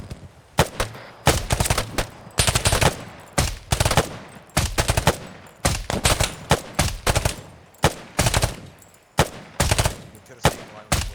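Rapid bursts of gunfire from a squad in training, loud and close, firing in repeated volleys with short gaps between them for the whole stretch.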